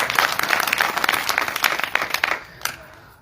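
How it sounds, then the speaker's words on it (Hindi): Hearty audience applause at a Hindi community gathering, dense clapping for about two seconds that then thins out into a few last claps and quiet. "ताली इनके लिए लगा दो"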